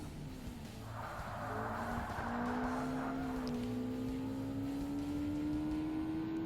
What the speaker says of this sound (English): Lots of tyre noise going around the corner in this car.